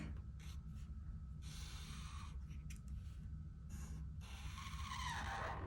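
A pen drawing bunny ears on an Easter bunny egg-pouch craft, with a steady close scratching that comes in bursts of strokes against a constant low background hum.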